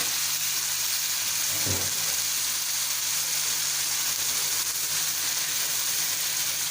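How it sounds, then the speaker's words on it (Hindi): Mutton frying hard over a high flame in a karahi, a steady close sizzle running throughout with one brief stir or clatter near the start. "हमने हाई फ्लेम पे ही मटन को अच्छी तरह से भूनना है।"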